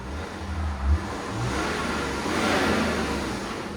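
BMW X5 3.5L diesel with straight pipes revving steadily, a loud broadband exhaust roar with a brief bump early on and a swell of revs toward the end.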